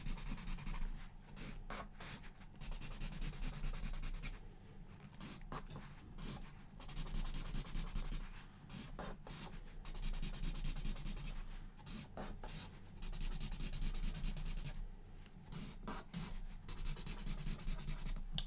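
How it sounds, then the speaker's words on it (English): A pen or marker scratches and rubs across paper, sketching a music keyboard diagram by hand. Strokes come close and continuous in bursts separated by short pauses. "So I'm going to draw a keyboard here."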